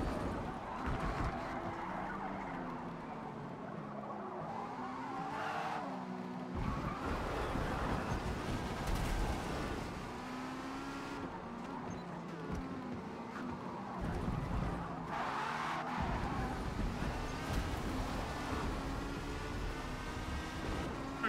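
A Porsche 918 race car in the Forza Motorsport video game, its engine droning and surging as it accelerates hard through several throttle pushes, with steady road and wind noise in the racing mix.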